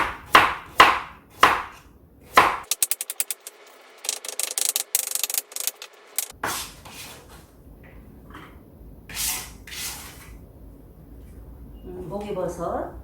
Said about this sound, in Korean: 또 당근도 채 썰어 주세요.